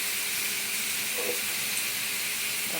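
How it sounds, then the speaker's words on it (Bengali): Chopped ripe pineapple fries in a pan while being cooked down for jelly, giving a steady, loud, bright sizzle with a hissing wash of steam and no talk. "এটা ভাজতে থাকি"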